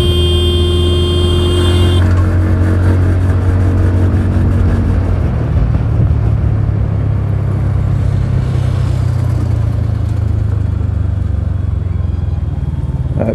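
A 2024 KTM Duke Gen-3 motorcycle riding through city traffic, its loud, close engine drone running steadily throughout with a steady pitch that shifts slightly partway through.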